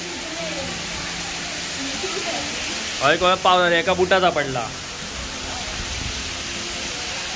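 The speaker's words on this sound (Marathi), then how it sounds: "बरोबर लक्ष्मीपूजनच्या दिवशी काय पाऊस पडता बघा." Heavy rain driven by strong wind pours down steadily on the day of Lakshmi Puja, a dense continuous hiss filling the whole clip, with a voice speaking briefly in the middle.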